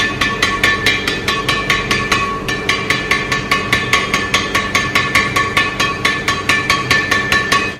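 Badminton racket strung with Mizuno MZ66 string at 27 lbs mains and 29 lbs crosses, struck repeatedly in a steady fast rhythm, each hit a bright, ringing ping, loud and close with no talking.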